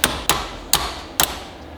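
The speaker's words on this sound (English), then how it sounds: "Get a punch, get a hammer, and then you're just gonna slowly start tapping this thing out." Four sharp metallic hammer taps on a punch driving a pin out of a Subaru shifter assembly, evenly spaced and close up, with no talk.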